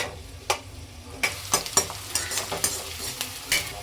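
Onions frying golden brown in a pan for a village-style fish curry gravy, a soft steady sizzle broken by sharp clicks and scrapes of a spoon stirring against the pan, close and without talk.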